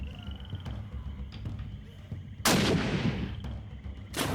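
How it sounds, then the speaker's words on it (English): A single loud gunshot goes off midway through a scene in the video game Sherlock Holmes: The Awakened, with a sharp report followed by a decaying boom, over faint game ambience with light clicks and no speech. "Can you shoot down the corpse?"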